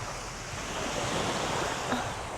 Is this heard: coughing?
no